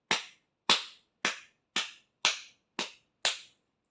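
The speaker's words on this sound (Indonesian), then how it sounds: "Kemudian boleh untuk telapak kaki ini kita tepuk seperti ini boleh." Hands pat the sole of a foot during a massage, with seven sharp, evenly spaced slaps about half a second apart. Close and fairly quiet, each one decaying quickly into silence.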